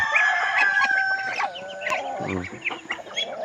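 Chickens clucking and calling nearby during feeding, with overlapping chatter from chickens and ducks and a rooster-like cry among the clucks; no talking.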